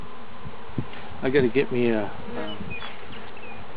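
A honeybee swarm being put into a hive gives a soft steady buzzing hum in the background, while a person speaks briefly over it.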